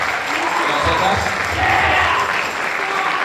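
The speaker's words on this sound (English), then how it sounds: "Students, let's give everybody a round of hand, a round of applause." A high school winter concert audience gives a round of applause, dense even clapping from a large crowd filling the hall, loud and continuous from start to finish.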